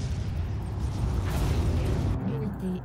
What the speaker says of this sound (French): ils ont pété le générateur